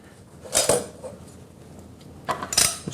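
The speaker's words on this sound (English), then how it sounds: "we'll just take our potatoes, put those all around the roast" Potatoes knock and clink against the metal of an induction cookware pan as they are set around a roast beef, two clusters of clattering contacts separated by quiet.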